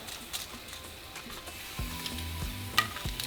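Dried chile de árbol toasting in a pan for salsa roja, a faint steady sizzle with soft crackles and a few light scraping taps, no voices.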